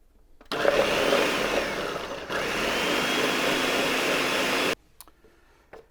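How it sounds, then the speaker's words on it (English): An electric blender purees dried chilies with their steeping liquid into a sauce: a loud, close motor whine starts abruptly, briefly dips and shifts pitch midway, then runs steadily until it cuts off, leaving near silence. "Let's go ahead and get this blended up."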